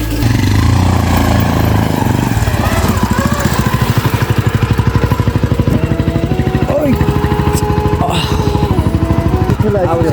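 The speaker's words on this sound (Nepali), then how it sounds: "दाजुले बाइक निकाल्दैछ।" A motorcycle engine runs steadily nearby, a loud pulsing idle with a slight rise in pitch partway through and no voices over it.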